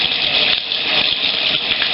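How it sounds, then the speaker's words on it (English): Water runs from a shower tap, a steady close hiss of flowing spray with no talking over it. "I'm going to turn my water on down here"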